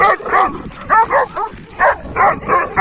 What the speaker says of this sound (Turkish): Arkadaşlar, mekana bir yabancı köpek gelmiş.